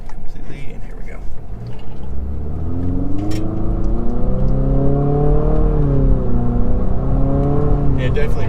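A 2020 Infiniti QX50 SUV pulls away from a complete stop, its engine note climbing steadily in pitch as it revs higher through the gear, loud and close from inside the cabin.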